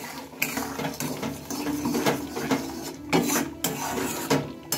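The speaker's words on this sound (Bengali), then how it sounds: "এবার এটা একটু ভালোভাবে নেড়ে চেড়ে নেব।" Spoon scraping and clinking against a pan while orange curry with a little sugar is stirred, a steady run of close metallic scrapes and knocks with no voices.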